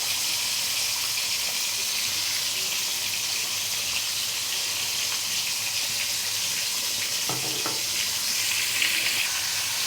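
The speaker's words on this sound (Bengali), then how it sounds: "কড়াইয়ে দিয়ে দিচ্ছি তেল" Oil heating in a kadai for a Bengali rui fish curry, a steady faint hiss and sizzle throughout with a few light scrapes or clinks near the end, no voices.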